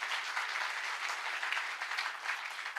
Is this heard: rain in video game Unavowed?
no